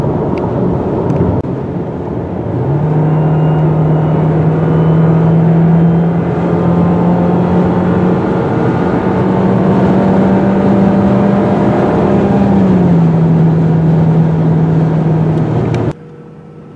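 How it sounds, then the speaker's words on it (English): A 2019 Volkswagen Jetta engine drones steadily while driving, with a loud, even hum that swells as it accelerates and then cruises, shifting pitch a few times before cutting off near the end. "We're going to take this Jetta out on the freeway and do a highway trip of approximately 100 miles."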